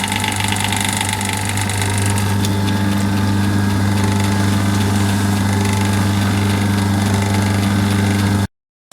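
A lathe countershaft turns on Fenner belt pulleys with a steady, even mechanical hum and faint rattle, running continuously up close before cutting off abruptly near the end.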